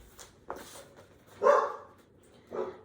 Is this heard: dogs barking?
yes